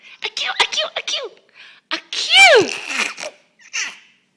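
A small child makes repeated mock sneezes with the voice, a quick series of short bursts broken by giggles and babble. The sneezes are close and fairly loud.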